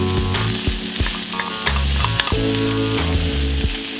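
Tofu fries with cabbage, onion and serrano peppers in a loud, dense sizzle, with a spatula scraping and stirring in quick strokes close by and nobody speaking.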